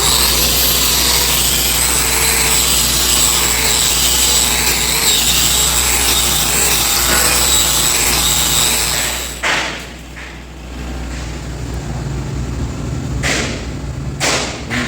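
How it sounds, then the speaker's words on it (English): A 304 stainless wire wheel grinds steadily and loudly against stainless steel pipe for about nine seconds, then stops, leaving a few sharp knocks and clatters at close range. "Don't forget to use a 304 stainless wire wheel."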